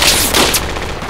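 Loud, close gunfire in Project Reality, a dense burst of crackling shots filling a brief moment.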